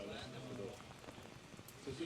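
Pouring rain falls steadily across a Formula Drift Japan track, a continuous hiss of drops on the surface with faint talk underneath.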